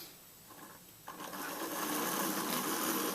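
A model locomotive on its track, run from a DC throttle pack at about half power during wheel cleaning, gives a steady motor whir that rises and intensifies after about a second and then holds constant, close and alone.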